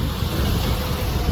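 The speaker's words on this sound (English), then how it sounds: "it is absolutely cold and windy" Cold wind buffets a microphone at James Street train station, a steady low rumbling roar with small gusty swells throughout, no voices present.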